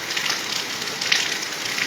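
The first monsoon rain falls over villages in Punjab's Malwa region, a steady, even hiss of downpour close by with faint patter and no voices.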